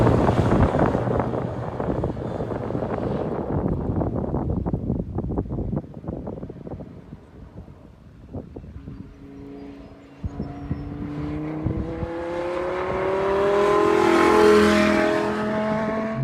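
An Audi R8 V10 circling a race track, its engine roaring loud and close with wind buffeting the microphone, fading somewhat in the middle before a rising, sustained engine whine builds strongly toward the end.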